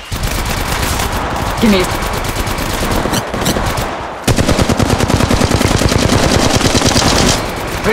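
Rapid automatic gunfire in an intense Apex Legends Mobile firefight, loud and close, bursts rattling before a dense continuous volley takes over halfway through, with a brief spoken voice.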